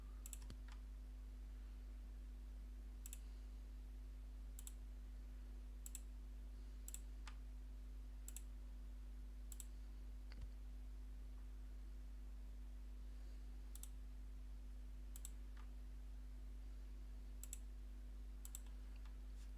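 Sharp mouse clicks in ABAQUS software, a dozen or so spaced irregularly every second or two, close and crisp over a steady low electrical hum.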